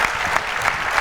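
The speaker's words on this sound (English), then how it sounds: "I like ending on an applause" An audience at a space education panel breaks into brief applause, a dense burst of clapping heard close and steady.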